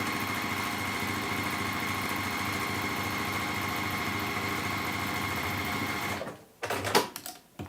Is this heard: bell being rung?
no